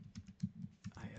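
Short burst of typing on a computer keyboard, a handful of soft close keystrokes in quick succession, with faint talk over the top.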